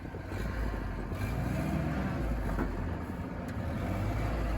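A Kaiser Jeep CJ5 engine idles in four-low while backing up in sand, a steady low rumble with some wind buffeting on the microphone and no talk.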